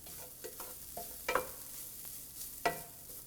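Ginger frying in oil for inji curry while being stirred, a soft steady sizzle with a few sharper scraping clatters of the spoon against the pan, fairly quiet and with no talk.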